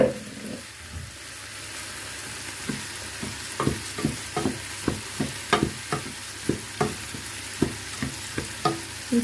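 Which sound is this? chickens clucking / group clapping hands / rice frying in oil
rice frying in oil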